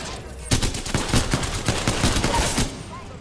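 Havoc energy rifle fire in Apex Legends: a rapid, sustained burst of automatic shots beginning after a brief quiet lead-in, loud and close, running steadily for about two seconds before cutting off.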